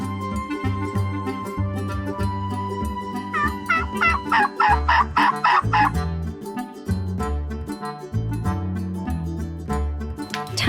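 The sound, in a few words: turkey gobbling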